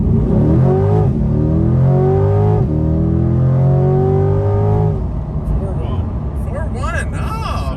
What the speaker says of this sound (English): we're gonna try a acceleration from a stop without launch control this time to see, what the time would be